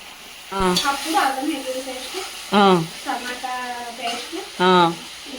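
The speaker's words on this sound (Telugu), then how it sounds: "ఇప్పుడైతే వాష్ చేసి ఉంచుకున్న చికెన్ వేసేస్తున్నారు" Washed chicken pieces go into a hot pan in a home kitchen, a steady sizzle and hiss running beneath voices talking.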